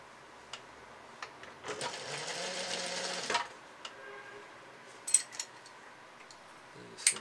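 A sewing machine stitches old denim jeans being remade into a top, with one steady run of stitching of about two seconds at close range. Faint clicks and handling noises come before and after it.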